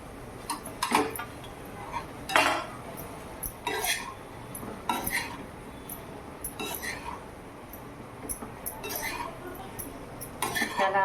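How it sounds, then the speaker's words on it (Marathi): A utensil stirs crushed chapati chivda in a pan, producing repeated close metallic clinks and scrapes in an irregular rhythm, with soft background sound between strokes. "आपण असं व्यवस्थित मिक्स करायचं आहे असं हलवून घ्यायचं"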